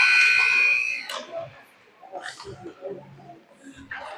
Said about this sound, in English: Buzzer sounds, and pucks are going to get picked up